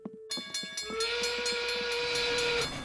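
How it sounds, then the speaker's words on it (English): A cartoon train rumbles into a station with rhythmic clacking, and a loud, sustained steam whistle blows over the rolling wheels. "Time for the number 1 to come into the station"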